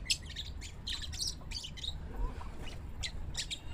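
Pet pigeons in a loft give repeated close chirps and squawks over a low rumbling background.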